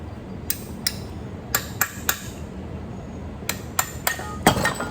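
Sharp metallic hammer strikes on the front axle of a 1964 Dodge WM300 Power Wagon land in two uneven bursts, about ten blows in all, ringing brightly against a low rumble of background noise.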